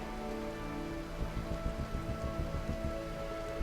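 Steady rain in the RimWorld video game patters continuously on a surface, an even dense hiss with soft scattered drops, at moderate level and with no voices.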